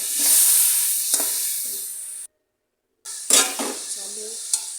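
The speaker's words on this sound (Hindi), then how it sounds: "इसको अच्छी सी भुनाई करनी है आपने" Biryani masala frying in a pot as a spoon stirs it, a close sizzle with a few scrapes and clinks, broken by a short silent cut midway.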